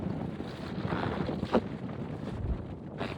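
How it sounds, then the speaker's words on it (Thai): Strong wind buffeting a microphone on a suspension bridge at Kaeng Krachan Dam at sunset, a low rumbling roar with gusty swells and a brief sharp knock partway through, no talking. "ลมแรง เย็นมากเลยเย็น เย็นด้วยลม"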